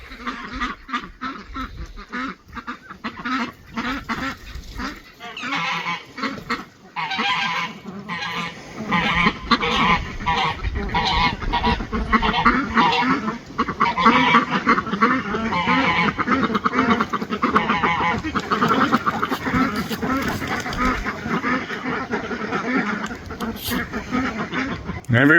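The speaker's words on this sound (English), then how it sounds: "You birds, behave yourselves." Geese honk and ducks quack in a busy, overlapping flock nearby, with a person talking intermittently over the racket.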